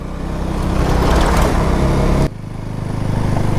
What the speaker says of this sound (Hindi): ट्रैक्टर आ रहा है।